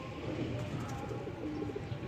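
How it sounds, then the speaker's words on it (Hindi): Pigeons coo softly in the rain in low, throaty murmurs against a steady rumbling background, close by and continuous. "दोस्तों अब आ गई है कबूतरी बैठने पे।"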